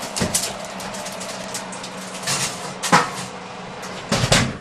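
Lamb shank pan set back into an oven: a few short metallic clanks and knocks of the pan and oven door, close and moderately loud, spaced over a few seconds with a low background hum.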